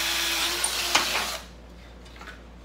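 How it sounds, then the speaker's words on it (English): A small power drill whines briefly at close range drilling holes in a clay extruder die, then cuts off, leaving a quiet room with faint handling noises. "I'm going to drill out my holes where I want my"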